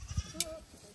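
A goat in a herd gives a short, thin bleat amid low shuffling sounds and a brief sharp click, close and fairly quiet.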